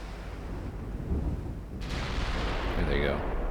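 Battleship A and B turrets firing in the naval game Ultimate Admiral Dreadnoughts, a heavy, booming blast over a low rumble, with someone talking.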